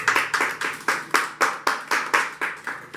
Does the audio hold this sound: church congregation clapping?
yes